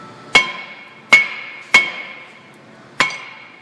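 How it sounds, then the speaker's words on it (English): A hammer strikes the rusted brake rotor of a 2006-2010 Ford Explorer four times with sharp metallic clangs and a short ringing tone after each, unevenly spaced and close, with no talk. "Give it a slight hit with your hammer"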